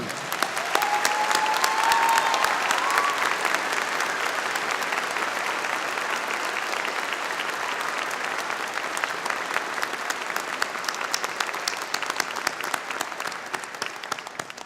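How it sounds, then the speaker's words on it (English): A large convocation audience at a spring university graduation ceremony applauds in a steady, dense round of clapping that holds at an even level throughout, with no voices rising above it. "Please join me now in a round of applause acknowledging them"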